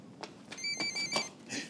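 A telephone rings briefly in a scene from an Ecuadorian TV comedy series. A bright electronic trill sounds between soft knocks and shuffles, with no one speaking over it.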